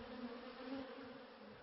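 Honey bees buzz steadily on the comb in a dark hive, a dense continuous drone of many wings at close range with no voices.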